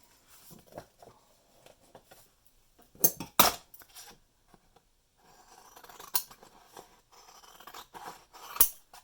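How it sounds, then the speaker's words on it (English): Scissors snipping through a new postcard card, a few sharp crisp cuts standing out against quiet rustling and light handling noises, close up. "we'll cut a new card"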